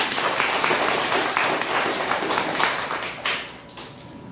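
A church congregation at Sunday worship applauds in a sustained, broad wash of clapping that gradually thins and fades toward the end.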